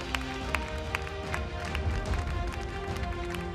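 Studio audience applause on a Spanish-language television program, a steady, moderately distant wash of clapping that holds evenly for several seconds with faint voices underneath.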